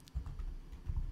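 Soft, quick clicks of fingers typing on a computer keyboard, a short run of keystrokes up close.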